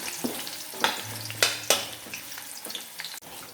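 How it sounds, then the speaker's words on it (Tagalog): Garlic, onion and ginger sauté in a pan with a low steady sizzle, while a utensil scrapes and taps against the pan in irregular strokes, close up with no talking. "igisa na po natin ang bawang, sibuyas at luya"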